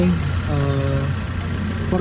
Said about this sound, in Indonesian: gue dengar mobil ini idle very smooth dan sehat kayak sekarang